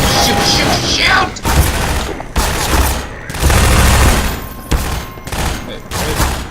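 Loud game gunfire in Half-Life 2 during a fight against a helicopter, with heavy repeated bursts and booming shots broken by short gaps, close and dominant throughout.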